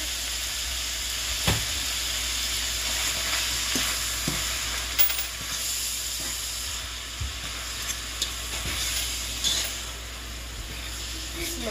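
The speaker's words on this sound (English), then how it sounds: "So I'm going to add my diced tomatoes up in there." Diced tomatoes go into a pan of goulash over a steady, close frying sizzle and hiss, with a few soft stirring clicks and taps scattered through it and no talking.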